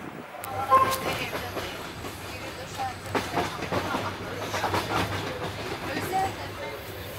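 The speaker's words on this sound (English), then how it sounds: "I took the night sleeper train, only about 12 hours" Rumbling night sleeper train interior leaving Azerbaijan, with a steady low hum and rhythmic clattering of wheels on rails, with faint voices in the background.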